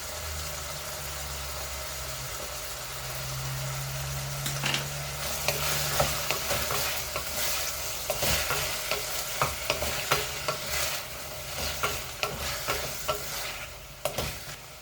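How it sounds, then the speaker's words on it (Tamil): Green chilies sizzle and fry in a single pot of sambar being prepared, a steady close hiss with frequent sharp stirring scrapes and clanks through the second half; no one speaks. "பச்சை மிளகாய் எல்லாம் போட்டு நல்லா வதக்கிக்கலாம்"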